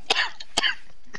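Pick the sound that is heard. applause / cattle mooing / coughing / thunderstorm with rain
coughing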